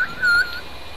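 A person gives a brief, high whistle of about half a second, clear and close, over a faint background hiss.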